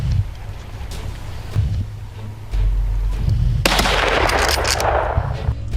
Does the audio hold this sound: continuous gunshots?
yes